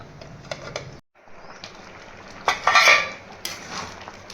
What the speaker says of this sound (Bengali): ডাল আর সবজিগুলোকে ভালো মতন সেদ্ধ করার জন্য আমি ঢাকা দিয়ে দেবো।